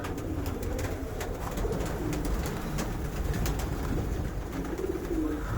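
Pigeons coo softly and continuously inside a pigeon loft, a low, steady murmur of overlapping calls with faint scattered taps and wing movements.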